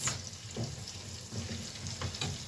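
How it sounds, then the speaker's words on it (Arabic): Chopped coriander sizzling in hot oil in a pan while being stirred, a steady soft crackle with a few light scrapes of the spoon, close and moderately quiet, cooked for a chicken kabsa. "هقلب فيها طبعا لحد ما تحمر تصفر معانا بس."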